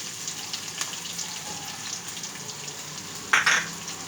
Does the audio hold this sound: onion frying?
yes